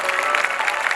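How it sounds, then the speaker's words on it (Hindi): Audience clapping at a Shrimad Bhagavat Katha religious gathering, a brief dense burst of many hands applauding steadily at close range, with no voices on top. "जोरदार ताली।"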